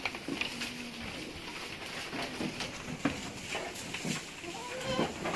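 Anglo-Nubian goats on a farm bleating now and then, several short calls scattered over busy background noise and a faint patter, with voices talking nearby.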